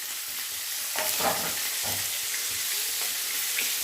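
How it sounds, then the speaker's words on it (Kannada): Medium-cut chopped onion frying in a little oil for onion sagu, a continuous soft sizzle with occasional spatula scrapes and stirring knocks, close and steady with no talk. "ಅದು ಹಾಕಿ ಸ್ವಲ್ಪ ಎಣ್ಣೆಯಲ್ಲಿ ಒಂಚೂರು ಫ್ರೈ ಮಾಡ್ಕೊಳ್ಳೋದು"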